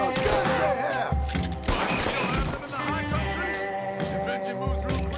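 Gunfire in the Western video game Red Dead Redemption 2: a dense run of shots over horse sounds and game music, with voices talking throughout.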